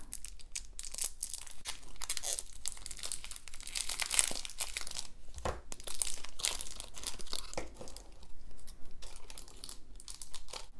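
A clear transparency-film sticker is peeled slowly off its backing sheet, giving close, continuous crinkling and tearing rustles with a few sharper crackles.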